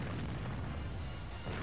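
A battleship blows up in the naval combat game Warship Gunner 2, a dense, sustained low rumbling boom that holds steady at moderate loudness throughout.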